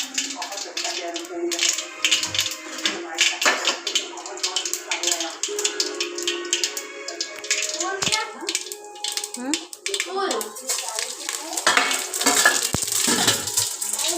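Crackling sizzle of mustard seeds and cumin in hot oil for dhokla tempering, with scattered pops and metal utensil clinks and scrapes throughout.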